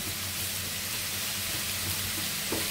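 Ash gourd, pointed gourd and eggplant fry in hot oil, giving a steady, dense sizzle that runs unbroken throughout, close and moderately loud.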